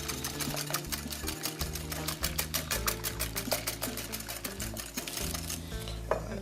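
A whisk beats an Irish cream crème brûlée mixture of heavy whipping cream and whiskey in a bowl, producing rapid, steady rhythmic clicking and tapping against the sides, close and clear.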